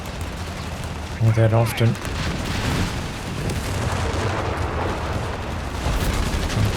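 Artillery booms from an Obice howitzer in Company of Heroes 3, a few heavy thuds clustered early amid ongoing battle noise, with someone commentating over the top.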